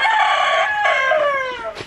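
A rooster among backyard pullets crows once, close and loud, a drawn-out cock-a-doodle-doo that trails off.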